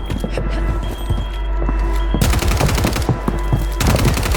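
Rapid bursts of video game gunfire crackle loud and dense, with repeated shots in quick succession and a brief lull in the middle.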